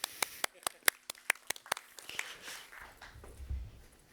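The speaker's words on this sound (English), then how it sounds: "We can give him a round of applause as well." A small audience at a conference session gives about a dozen sharp, evenly spaced claps over two seconds. The clapping then thins out into quiet room noise.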